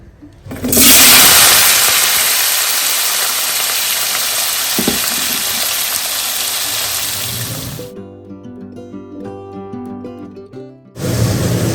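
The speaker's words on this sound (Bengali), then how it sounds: "এখানে তেল গরম হয়ে গেছে, বেশ ভালো গরমই হয়ে গেছে। এবার এতে আমি আলুগুলো এরকম সাইজের কেটে নিয়েছি, আলুগুলো দিয়ে দেবো।" Cut potatoes hitting hot mustard oil set off a loud, sustained sizzle and crackle for several seconds, close by, before quieter music takes over near the end.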